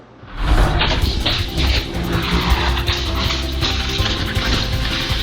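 A car crashes with tires skidding, a loud, harsh roar of rubber and scraping that bursts in suddenly and carries on steadily to the end, with no voices.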